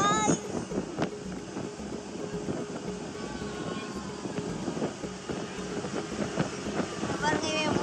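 A speedboat runs fast through the Langkawi mangroves, its engine drone mixed with heavy wind buffeting and water rush throughout, while a person talks over the noise.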